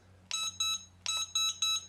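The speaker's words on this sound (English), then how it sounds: "all you've got to go by is the beeps" A Lian Sheng LS-111 drone's remote controller gives two short bursts of high electronic beeps, a pause, then three more, each a sharp tonal bleep, with a low hum running underneath.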